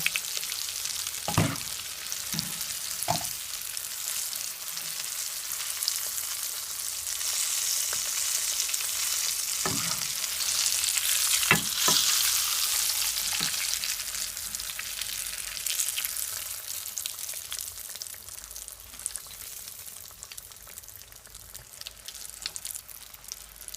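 Pork pieces frying in hot oil for sweet and sour pork, a steady bright sizzle and crackle running throughout, with occasional clinks of a utensil stirring or lifting the meat; no one speaks.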